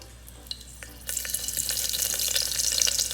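Onion dropped into a hot pan of ghee, a faint tap then a sudden bright sizzle that swells and holds steady, close and loud, with no talking.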